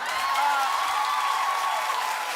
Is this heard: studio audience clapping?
yes